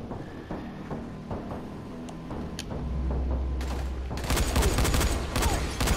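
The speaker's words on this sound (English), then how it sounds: "Get my camo assault rifle out!" A camo assault rifle fires in the video game Dying Light, first as scattered shots over low ambience, then as a dense, loud, rapid burst of automatic fire in the final seconds.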